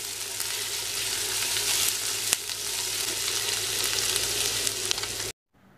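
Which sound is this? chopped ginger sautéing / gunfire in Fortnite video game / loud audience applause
chopped ginger sautéing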